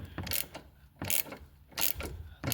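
A hand ratchet on a very long extension bar works a 12mm bolt loose on a Volvo XC90, giving short bursts of clicking strokes separated by brief pauses, close and clear.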